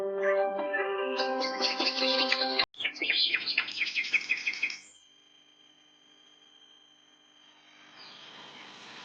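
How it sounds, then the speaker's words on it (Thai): Several birds chirp and sing busily in the morning at a seaside campsite for about five seconds, then fade to a quiet hum with a faint call or two. "เสียงนกร้องบอกสัญญาณของวันใหม่"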